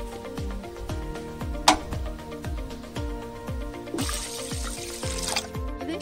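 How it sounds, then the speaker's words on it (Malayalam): Rice is washed in water in a steel vessel, with repeated rhythmic swishing and sloshing, a sharp metallic clink, and a brighter splash of running water toward the end. "ഒരു സ്റ്റീൽ പാത്രത്തിൽ നമുക്ക് ഈ അരി ഒരു 3 പ്രാവശ്യം കഴുകിയെടുക്കാം."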